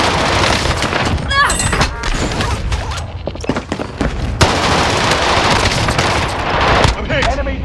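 Rapid automatic gunfire rattles loud and close in Call of Duty: Warzone on Rebirth Island, with dense bursts and booms filling the scene while voices talk over the shooting.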